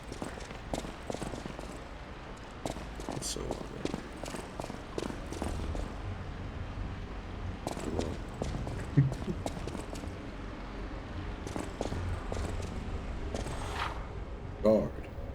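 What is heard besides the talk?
footsteps in the video game Lies of P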